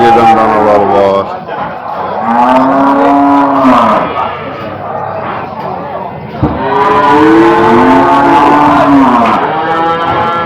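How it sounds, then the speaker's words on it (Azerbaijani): Cattle at a busy livestock market let out long, loud moos close by, several overlapping calls rising and falling, with people talking and crowd noise underneath. "İri buynuzlu malları çəkməyə. İnək var."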